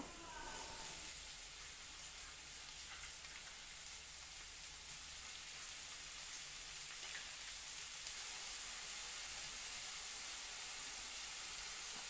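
Finely chopped garlic and chopped tomato sizzle steadily in a hot pan, a close, continuous hiss of frying with no talk over it.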